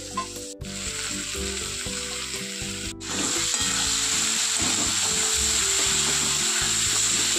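Steady loud sizzling from a pan as ingredients fry for a vegetable dal, chopped coconut among them, with two brief dropouts early on and continuous frying hiss throughout.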